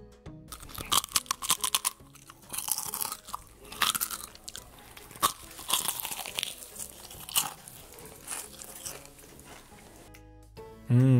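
Loud, close crunching bites and chewing on a chicken thigh breaded with stale bread, a run of crisp crackling bursts across the clip with a brief pause near the end.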